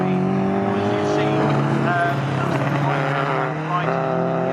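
A race car at Snetterton circuit building speed on track during a CSCC Future Classics race, its engine a steady sustained drone with rising harmonics, loud and continuous with a commentator's voice over it.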